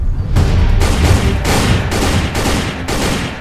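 Soldiers fire guns in a Hindi army short film, loud sustained bursts of gunfire in several rapid volleys separated by brief pauses.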